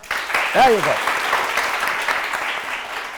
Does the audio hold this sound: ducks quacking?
no